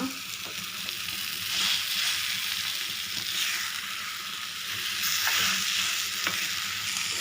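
Bottle gourd puttu fried and stirred in a pan, a steady close sizzle with repeated scraping of the spatula in gentle surges throughout.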